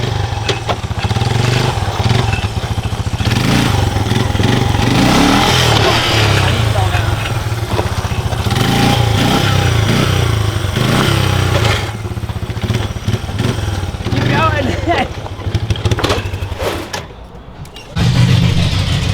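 A BMW E34 car engine runs loud and close before its first drive, a rough steady idle with repeated revs and surges, dipping briefly near the end before picking back up, with a voice over it.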